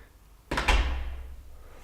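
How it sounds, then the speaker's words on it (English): A side door of a house opens with a single solid thunk and a brief rattle, close by, followed by a short fading reverberation in a quiet room. "I'm having to use a side door because the scaffold tower is blocking the front door."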